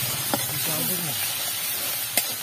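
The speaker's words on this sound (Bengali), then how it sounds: "পেঁয়াজ বাটা একটুখানি ভেজে নিচ্ছি।" Onion paste fries in hot oil in a home kitchen pan, giving a steady, bright sizzle throughout with a couple of sharp clicks of utensils and a low voice faintly underneath.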